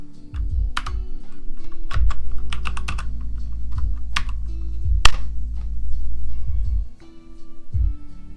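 Brisk typing on an Apple Magic Keyboard, close and crisp, with rapid uneven bursts of key clicks and a few heavier taps, over a low steady room hum and no talking.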